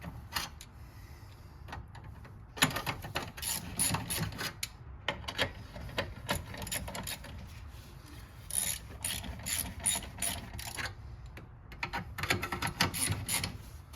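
Battery hold-down bracket on a 2013 Honda Ridgeline being tightened with a ratchet, giving rapid close clicking bursts that repeat in several runs with short pauses between them.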